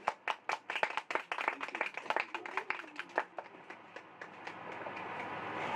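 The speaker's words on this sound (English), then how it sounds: "let's give a big round of applause to Dr. Lanskey." An audience claps for a speaker at a Debussy Etudes discovery forum, a burst of close, crisp individual handclaps that thicken into steady applause and then fade toward the end.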